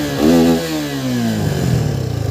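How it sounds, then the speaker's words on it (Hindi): A Suzuki Gixxer 250 motorcycle engine runs just after starting, close and loud: a steady idle that rises in a rev and settles into a throbbing pulse, with no talking. "तो भाई ये हो गया अपनी बाइक स्टार्ट।"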